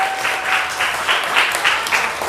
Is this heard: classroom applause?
yes